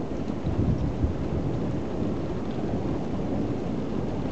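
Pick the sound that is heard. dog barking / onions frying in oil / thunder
thunder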